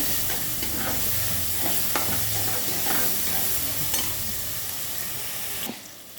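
Spices and mashed tomatoes sauté in a pan for a tuna chilli fish curry. The sizzle is close and constant, with rhythmic scrapes from stirring, and it drops off abruptly at the end.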